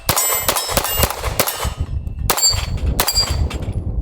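Rapid pistol shots from a Sig P211 GTO or Staccato XC, fired in quick bursts with bright metallic rings from a steel target, loud and close, with a short pause midway before more shots.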